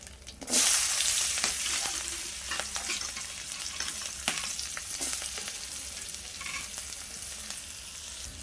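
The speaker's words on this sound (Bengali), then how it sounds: "দেখো পেঁয়াজটা ভাজা ভাজা হয়ে গেছে" Chopped onions frying in hot oil in a pan after five-spice seeds and dried red chillies, a steady close sizzle with occasional stirring scrapes and no talk.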